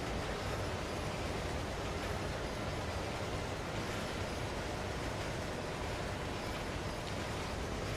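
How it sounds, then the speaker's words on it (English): Heavy CSX freight train rolling along in the Train Sim World CSX Heavy Haul simulator game, a steady dense rumble and rail roar filling the whole stretch, continuous and fairly close with no talk. "My train's getting away."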